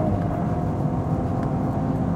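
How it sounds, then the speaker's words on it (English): 2016 Cadillac ATS-V engine on a race track, a steady deep droning rumble heard from inside the car, loud and continuous with no break. "The engine noise is excellent."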